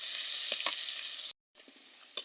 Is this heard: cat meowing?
no